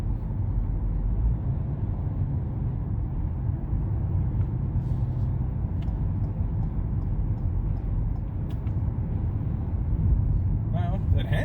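A 2020 Ford EcoSport with a 1.0 turbo engine cruising on a highway, a steady low road and engine rumble heard from inside the cabin, constant and fairly loud throughout, with a voice faintly present over it.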